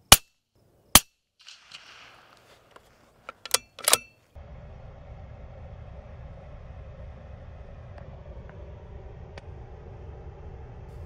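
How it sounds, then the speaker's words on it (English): A rifle held canted about 45 degrees fires at a target at a shooting range. Several sharp, loud cracks ring out in the first four seconds, then a steady low rumble continues alone. "I'm going to go ahead and cock the gun approximately 45 degrees and shoot at the same target."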